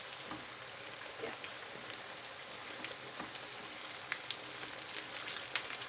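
Potato köfte, vegetarian patties, frying in a pan: a steady, fairly quiet crackling sizzle with scattered sharper pops and spits throughout, no talking.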